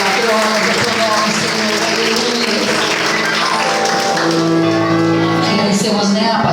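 Evangelical church congregation clapping in praise to the Lord, loud continuous applause over music and shouting voices, sustained throughout.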